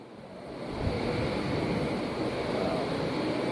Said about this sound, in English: You can hear the roar of the vent.